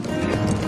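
A horse gallops in an animated series, with a brief, close burst of rhythmic hoof clip-clops.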